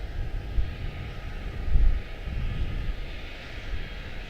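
An airliner taxis at Charlotte-Douglas International Airport, its engines a steady low rumble with wind buffeting, swelling briefly midway before settling back to an even drone.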